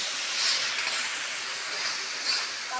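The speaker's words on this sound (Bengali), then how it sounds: "আর এখন মশলাটা একটু ভালো করে ভেজে নেব।" Steady sizzling hiss of spices frying in hot oil for a meat dish, continuous and fairly close, with no voices.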